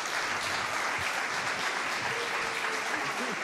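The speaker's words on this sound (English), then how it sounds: "let's give them another round of applause." An audience applauds at a documentary film premiere at St Paul the Apostle church, a dense continuous wash of clapping that stays steady and fairly loud throughout.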